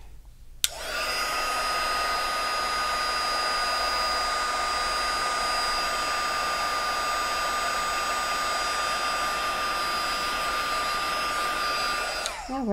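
A heat embossing tool blows hot air in one continuous, close, loud whooshing hum with a steady whine, switched on near the start and off at the end, with no talk.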